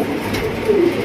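A pair of Afsan Gizel racer pigeons coo softly nearby, one short low call rising over a dull room background.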